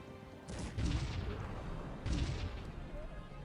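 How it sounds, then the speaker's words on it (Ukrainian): Cannon artillery fires in the real-time strategy game Cossacks 3, two deep booming blasts about a second and a half apart over steady battle ambience, moderately loud. "Гармати."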